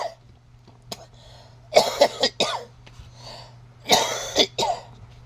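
Several harsh coughs come in short clusters, close and loud, separated by quiet pauses with a faint steady hum beneath.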